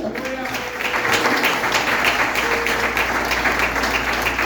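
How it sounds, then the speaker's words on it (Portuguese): Church congregation at a family worship service breaks into steady, dense applause, a broad wash of many hands clapping that holds strong for several seconds with faint voices mixed underneath. "Aplausos à terra."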